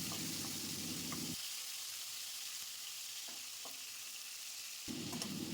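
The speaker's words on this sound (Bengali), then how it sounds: "তেল গরম হলে আগে নুন হলুদ মাখিয়ে রাখা চিংড়ি মাছ হালকা করে ভেজে তুলে রাখবো" Prawns coated in salt and turmeric fry in hot mustard oil in a kadai, a steady close sizzle that dips briefly quieter midway and then swells again, with no voices.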